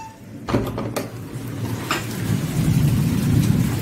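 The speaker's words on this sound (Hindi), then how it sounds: "It's raining so hard outside, let me just show you, और बहुत जोर से बिजली भी कड़क रहा है।" Heavy rain pours outside during a storm, a steady hiss that builds in loudness, broken early on by a few sharp crackles of nearby thunder.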